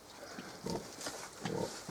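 A boar, the father of a litter of piglets, lying in mud gives a few low, soft grunts in short bursts close by, with no talking.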